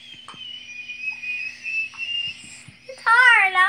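A child whistles a long, thin, steady tone, then ends with a louder wavering burst of warbling notes; soft background noises sit underneath.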